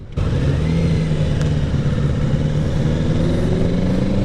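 A 2023 Kawasaki Ninja 650 accelerates hard under the rider, its engine roaring loud and close with a rising tone that holds steady throughout, no talking.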